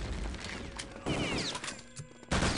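Gunfire in the World War II shooter Return to Castle Wolfenstein, a 6on6 competitive match on the beach map: several quick shots crackle in short bursts, with a loud final burst at the end and no talk.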